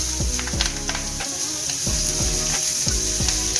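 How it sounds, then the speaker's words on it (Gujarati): Cabbage and chillies dropped into hot oil already seasoned with mustard seeds, cumin and turmeric hiss with a continuous bright sizzle over a repeating tonal background; no talking. "હવે કોબી મરચાં નાખી દેવું."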